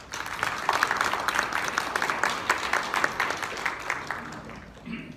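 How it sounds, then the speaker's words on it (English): A forum audience applauds its panelists at an African trade conference session, with steady, dense clapping that carries on for several seconds before thinning out near the end. "please thank for our panelists really with a round of applause."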